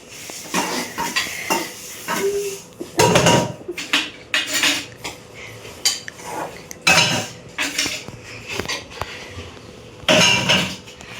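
Close, repeated clatter of dishes, pots and cutlery being scrubbed and knocked together, in bursts with brief pauses between.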